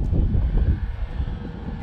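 A small beginner RC airplane flies low and slow overhead, its engine a steady rumbling drone mixed with wind buffeting the microphone, fairly close and without talk.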